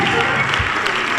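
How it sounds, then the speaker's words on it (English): Congregation clapping hands during a church sermon, a steady wash of many hands with a roomy, continuous texture lasting about a second. "clap those hands and give God some praise"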